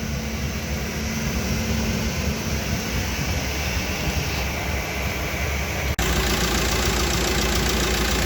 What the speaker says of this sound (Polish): auto poskładane, jak słyszycie silnik chodzi ładnie